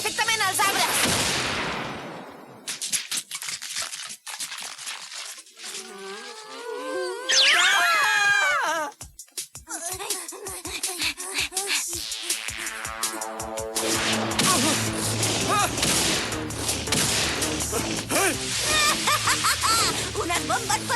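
Bombs going off in a Catalan-dubbed animated series, with loud bursts, whooshing and rumbling effects layered over dramatic music, and a voice briefly crying out partway through.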